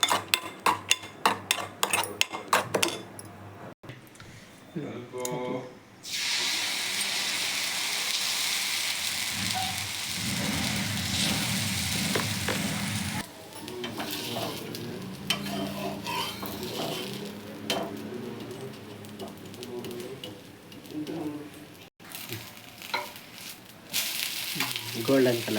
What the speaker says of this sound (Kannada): ರುಬ್ಬಿರೋ ಕಾಯಿನ ಮಿಕ್ಸ್ ಮಾಡೋಣ.